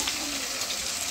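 Garlic, ginger and curry leaves frying in sesame oil, a steady close sizzle and crackle that holds for about a second with no talk.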